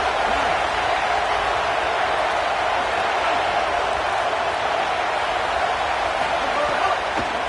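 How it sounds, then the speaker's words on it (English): A loud, steady roar from a stadium crowd at a college football game between Temple and Indiana, swelling on a third-down defensive stand as a dense wall of cheering and noise continues throughout. "Decibels rising as the crowd gets behind this defense on 3rd down"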